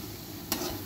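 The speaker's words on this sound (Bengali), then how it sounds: "একদম ভালো করে ভেজে নিতে হবে।" Taro leaves fry in a pan seasoned with chili powder, making a soft, even sizzle broken by one quick scrape of a stirring spoon, with no talking.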